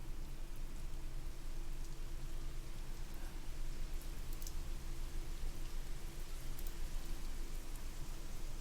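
Heavy rainstorm in a Pokemon fan video game, a dense, even hiss of steady rainfall that stays loud and unbroken from start to finish with no other sounds.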